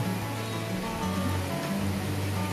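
Waterfall in the Cibodas area, a steady, dense rush of falling water roaring without pause from a short distance, with no voices over it.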